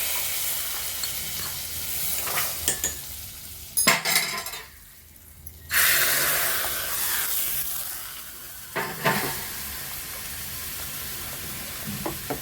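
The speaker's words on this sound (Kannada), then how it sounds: "ಇವಾಗ ಇದಕ್ಕೆ ಒಗ್ಗರಣೆ ಹಾಕ್ಕೊತಾ ಇದ್ದೀನಿ" Spices for a tempering sizzle and crackle in hot oil for ash gourd majjige huli, with stirring and clinks of a utensil against the pan, and a brief quiet gap midway.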